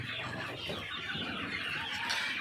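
A flock of chickens on sand litter in a poultry farm clucking and murmuring together close by, a busy, continuous chorus of soft calls.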